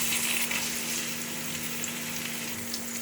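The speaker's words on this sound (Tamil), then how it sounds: "இந்த வெங்காயம் நல்லா வதங்கட்டும்." Onion sautéing in hot tempering oil with fenugreek seeds, dried red chillies and curry leaves for gooseberry rasam, giving a steady, close, continuous sizzle with no pauses.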